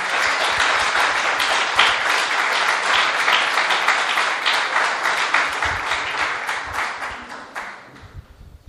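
An audience gives sustained, dense applause to welcome Francisco Louçã at the Fim de semana Cheio event in Lapa, a loud steady roar of many clapping hands that gradually thins and fades out at the end.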